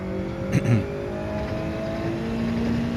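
Race car engine in the Gran Turismo 7 racing game, during a daily race at Trial Mountain. A steady, close engine drone with layered tones shifting in pitch, plus a brief louder burst early on.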